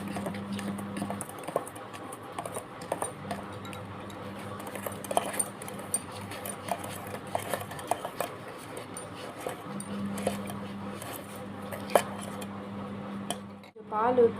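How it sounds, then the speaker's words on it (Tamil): Sugar batter for tea cake being mixed in a bowl, with repeated light clinks and scrapes of a spoon against the bowl in an irregular rhythm, close and quiet over a low steady hum. "இப்போ நல்லா மிக்ஸ் பண்ணிக்கலாம்"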